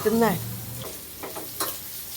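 Food sautéing in coconut oil in a home kitchen, a steady close sizzle with stirring scrapes, opening under a brief voice and with a few sharper spatter bursts later.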